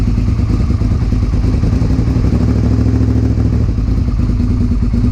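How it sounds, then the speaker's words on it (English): A 2001 Suzuki SV650S V-twin motorcycle fitted with an aftermarket exhaust runs steadily and loudly up close, giving a deep, throbbing low rumble with mechanical clatter throughout, no voices. "that V-twin with an aftermarket exhaust is so much more exciting than that bike"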